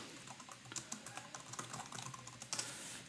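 Someone types on a computer keyboard close by, producing a quiet, irregular patter of key clicks with a few louder taps and no talking.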